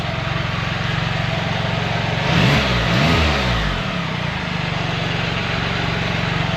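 A car engine fitted with a primary muffler delete pipe idles close by with a steady low rumble. Midway it briefly swells into two quick throttle blips, then settles back to an even idle, with no voices.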